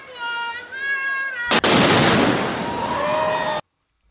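A loud bomb explosion thrown at a U.S. federal courthouse: a sudden heavy blast erupts mid-recording into a long roaring rumble that cuts off abruptly, with voices and noise heard before it.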